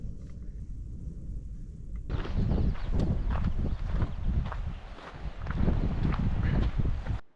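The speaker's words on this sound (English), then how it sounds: "As I said, and you can hear, it was very windy here on this day" Strong wind on the California coast buffets the microphone in heavy, rumbling gusts that swell and ease without pause. No one speaks.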